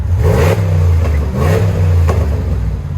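A 2019 RAM 1500 with a 5.7L HEMI V8 and a Flowmaster Super 10 exhaust revs loudly and close by, three deep throaty blips rising and falling over a steady rumbling idle.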